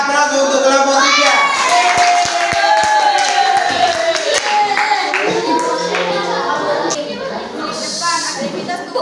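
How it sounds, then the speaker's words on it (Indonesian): A group applauds in a classroom coaching session, with many hands clapping over a teacher's voice and children's chatter; the clapping fades partway through, and the speaking carries on over it. "silakan aplaus untuk kelompok 3"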